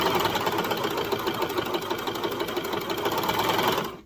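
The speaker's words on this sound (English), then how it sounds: "then I'm just literally sewing, making sure that my seam, my serger seam under here, is going this way" A serger runs steadily, stitching a seam on a baby bodysuit, its fast whirring motor loud and continuous close by until it stops at the very end.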